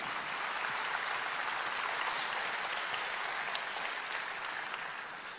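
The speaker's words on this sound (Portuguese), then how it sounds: "Você pode aplaudir ao Senhor." Church congregation applauding during a Portuguese-language sermon, a steady dense wash of clapping that holds for the whole span and eases slightly at the end, with no voices over it.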